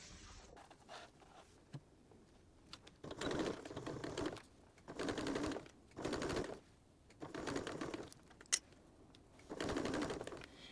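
Sewing machine stitching bias tape around a fabric circle for a measuring cup cover, running in five or six short bursts of rapid mechanical whirring, with quiet pauses and small clicks between them.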